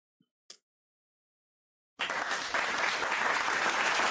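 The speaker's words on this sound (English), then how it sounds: "We found the applause." After a couple of faint clicks and a pause, a burst of recorded applause sound effect starts abruptly and continues as steady, loud clapping from a crowd, played during a livestream.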